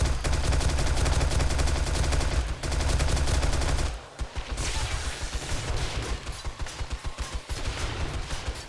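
SMG fire from the video game 7 Days to Die rattles out in long continuous bursts, then breaks into shorter rapid volleys, loud and up front.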